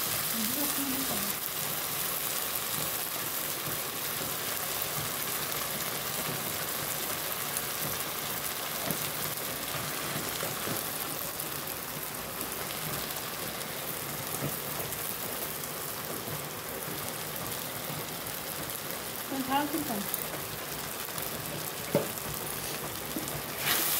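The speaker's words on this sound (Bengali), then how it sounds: "হলুদ গুঁড়ো, লঙ্কা গুঁড়ো, মশলাটাকে ভালো করে কষানো হচ্ছে" Masala paste of ginger, garlic, onion, tomato and green chili, with turmeric and chili powder, sautéing in a pan; a dense, continuous frying sizzle, close and steady for the whole stretch, with a few faint stirring scrapes.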